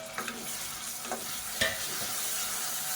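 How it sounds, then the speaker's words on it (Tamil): Onions and two medium tomatoes sauté in a pan for a South Indian kulambu, a continuous close sizzle with occasional stirring scrapes of the spoon, no voices. "இப்போ நல்லா மசிஞ்சு வர அளவுக்கு வதக்கிக்கலாம்."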